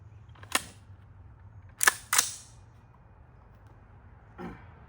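An unsuppressed MK18 rifle with a 14.5-inch barrel and Riflespeed gas control fires a few sharp, separate reports at irregular intervals. They sound fairly distant and moderate in level over a low steady background hum.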